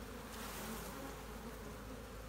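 Honeybees swarming around an open hive during an inspection, just after a frame is shaken: a dense, steady buzzing hum from many bees close by, continuous and fairly quiet, with no talking.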